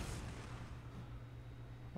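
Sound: dreadnought autocannon fire in Warhammer 40,000 Sanctus Reach video game

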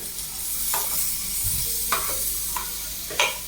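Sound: stirring pear stir-fry (poriyal) in a pan

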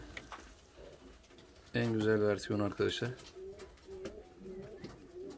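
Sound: fancy pigeons cooing

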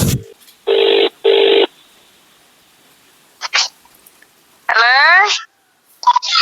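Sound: telephone dialing and ringing for a phone call

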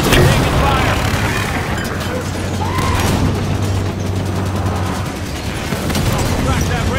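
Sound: gunfire in Halo 5 video game

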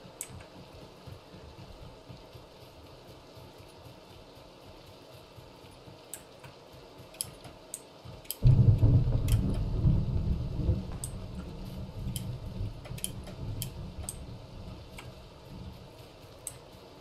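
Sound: rain and thunder in a video game (Battlegrounds)

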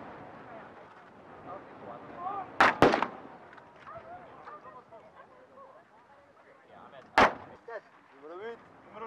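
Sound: rifle shots fired on a weapons range

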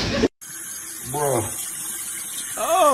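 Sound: water running from a sink tap

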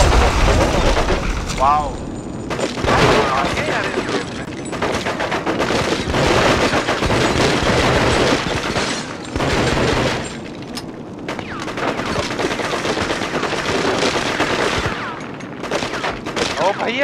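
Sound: gunfire in the PS2 video game Cold Winter

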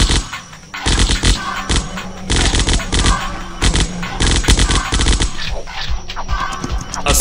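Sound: assault rifle gunfire in a zombie apocalypse video game

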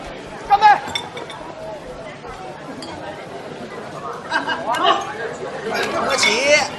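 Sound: glasses clinking during a toast

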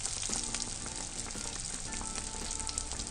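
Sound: belyashi meat pastries frying in oil in a 24 cm pan

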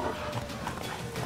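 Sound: frightened horse Roach in video game The Witcher 3

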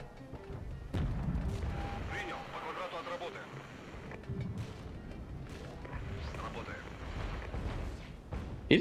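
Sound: mortar fire in video game Regiments

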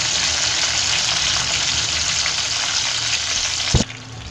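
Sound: green chillies being roasted and stirred in a pan

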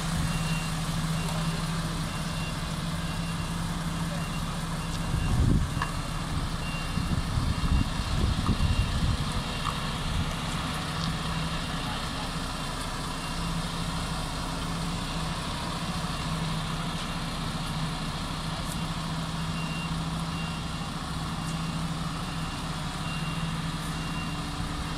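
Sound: Superlink truck reversing with reversing beeps

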